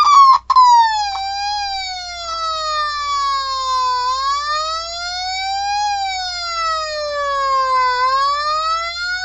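A NightFire American siren runs alone, loud and close, in a smooth wailing tone that slowly rises and falls in long sweeps, with a faint low hum underneath.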